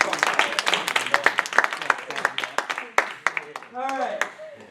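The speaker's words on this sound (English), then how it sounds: "everybody give him a round of applause" An audience at a game development club meeting claps in a brief burst of applause, dense irregular hand claps fading over a few seconds, with a voice speaking briefly near the end.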